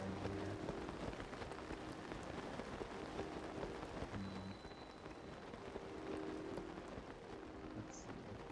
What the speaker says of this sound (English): It's really nice when it's raining here.